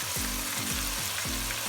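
Yogurt, ginger garlic paste and pulao masala sizzle steadily in hot oil for a chickpea pulao, a continuous close frying hiss with no voices.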